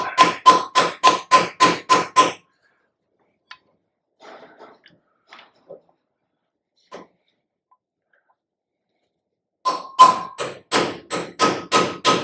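A ratchet used as a hammer to seat a front wheel bearing on a 1968 VW, delivering rapid bursts of sharp ringing metal blows, close and loud, separated by a quiet stretch of scattered small clinks before another fast volley.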